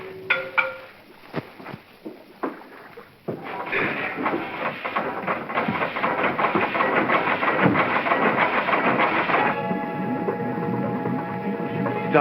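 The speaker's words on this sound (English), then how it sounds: "Stop the engine." A ship's engine runs loud and close, a few sharp knocks giving way to a dense, steady mechanical drone with rhythmic clatter that holds to the end.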